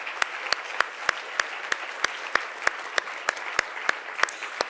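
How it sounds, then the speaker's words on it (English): A small conference audience at a health journalism gathering claps in a steady, fairly even rhythm of sharp claps, close and moderately loud throughout. "So let's clap for that."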